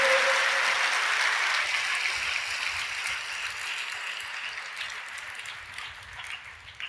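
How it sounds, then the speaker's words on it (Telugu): An audience at a religious gathering claps together in a dense wash of applause that starts strong and slowly thins and fades over several seconds, with no voices over it. "ముష్టేసినట్టు మీరు చప్పట్లు కొడుతుంటే"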